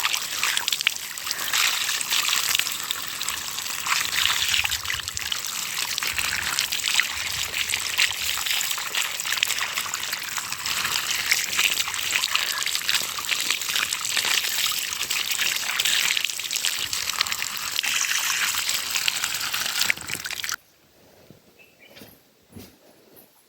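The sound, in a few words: hot water running and pouring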